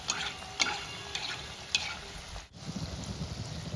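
Semolina rasbhari balls deep-frying gently in hot oil, giving a steady soft bubbling hiss with a few light clicks and stirring touches, and a brief dip near the end.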